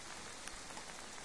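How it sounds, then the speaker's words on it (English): Rain falls steadily, a constant close hiss with a few faint drips standing out, and no one speaking. "It's raining."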